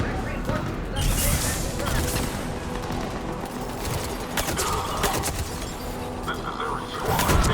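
Enemy gunfire in the Mass Effect game, a dense fusillade of rapid shots crackling continuously through the scene, with bursts growing louder near the end under a steady battle din.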